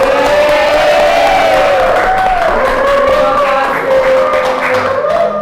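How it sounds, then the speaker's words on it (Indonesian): A campus talk-show audience of student leaders claps with loud cheering and voices on top, a lively, continuous crowd sound close to the microphone. "Tepuk tangan."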